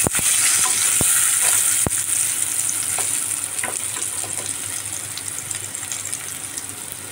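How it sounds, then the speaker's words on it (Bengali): Potato pieces fry in hot oil until reddish for a chicken curry with potatoes, a loud, continuous sizzle with a couple of sharp utensil clicks near the start, slowly easing in intensity over several seconds. "এগুলো একটু লাল লাল করে ভেজে নিতে হবে।"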